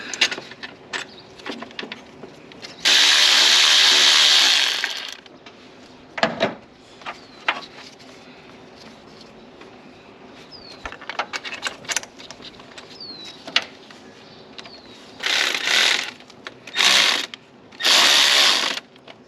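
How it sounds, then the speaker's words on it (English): Metallic clicks, ratcheting and clanks of bolts being tightened down while a water pump is mounted on a Jeep, with short bursts of louder whirring or ratchet noise scattered between quieter tapping and handling sounds. "Then I'll start tightening everything down"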